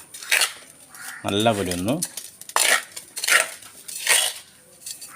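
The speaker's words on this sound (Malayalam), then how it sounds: "ഇനി അത് നല്ലപോലെ ഒന്ന് യോജിപ്പിക്കുക." A potting mix of sand and rice husk is stirred in a container, producing close gritty scraping and rattling strokes in uneven bursts, with a short stretch of someone speaking in between.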